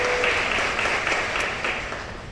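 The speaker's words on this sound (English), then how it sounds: "Yes, a round of applause for that too." An audience at an MPI Orlando Ignite 2021 industry event applauds, a dense steady wash of clapping from a crowd that holds fairly loud and then slowly fades.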